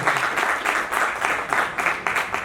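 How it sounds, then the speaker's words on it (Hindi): Audience at a live Hindi poetry recital applauds, a dense steady burst of many hands clapping in a room, fairly loud and continuous for a few seconds. "तालियां अपने लिए बजाइए"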